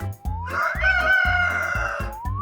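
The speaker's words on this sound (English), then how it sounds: "do you know which animal goes cock-a-doodle-doo? It's Bartolito the rooster!" A cartoon rooster on a children's farm gives a loud, drawn-out cock-a-doodle-doo over a bouncy music track with a steady thumping beat.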